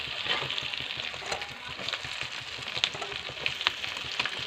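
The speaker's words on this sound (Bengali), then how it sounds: "পেঁয়াজটা দিয়ে একটু ভেজে নিই।" Onion frying in hot oil in a pan, right after prawns were fried for a prawn and giant taro curry, giving a steady close-up sizzle with scattered crackles and pops and no voices.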